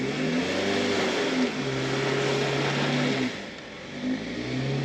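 A Chevy Impala's engine revs steadily and loudly while the car pushes through mud, the pitch wavering up and down as the tires work for grip, easing briefly before climbing again.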